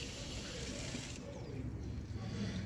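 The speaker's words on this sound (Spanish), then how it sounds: "Yo aquí lleno, ya se llena de agua." Water rushing from a tap into a pressure gauge during a pressure test, a steady broadband gush that softens partway through, fairly quiet with no speech.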